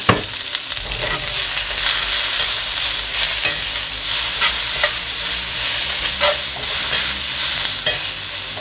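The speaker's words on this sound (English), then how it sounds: "we're gonna finish up those onions and then we're gonna cook off our burger patties." Onions and vegan smash burger patties fry in a loud, steady sizzle close by, with occasional stirring scrapes, and nobody speaks.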